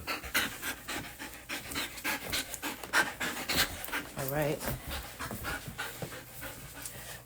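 A dog pants heavily and steadily at close range, a fast continuous breathing rhythm that runs under a person's speech while being taken out for a run.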